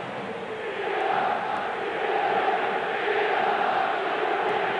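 A packed crowd of over 80,000 at a Sunday-night Inter versus AC Milan derby in a stadium, a dense, continuous roar of massed voices swelling and holding loud throughout.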